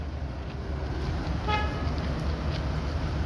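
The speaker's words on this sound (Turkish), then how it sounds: "haber veriyor, korna çalıyor." A tow truck in a parking lot gives one short honk of its horn, moderately distant and rising over a steady wash of traffic rumble.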